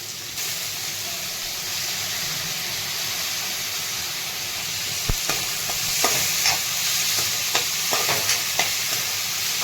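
Capsicum stir-frying with turmeric and soaked moong dal in a pan, a constant close sizzle with a run of sharp spatula scrapes and knocks in the second half, no one talking.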